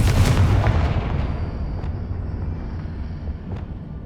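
A Confringo blasting spell from Hogwarts Legacy bursts with a loud, heavy boom at the start that rolls off into a lingering rumble, with a couple of faint sharp cracks trailing after.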